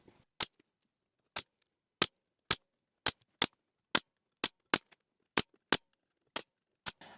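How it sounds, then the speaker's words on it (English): A pneumatic brad nailer drives brad nails into a wooden box that is glued together, with about a dozen sharp, close, separate pops at uneven intervals and quiet pauses between them. "I'm just going to be using wood glue and some brad nails"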